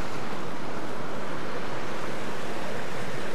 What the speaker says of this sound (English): found this lovely waterfall running down